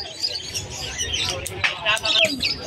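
Aqua Ino split Opaline aviary birds chirping in a lively, continuous mix of high tweets and calls, with people talking over them.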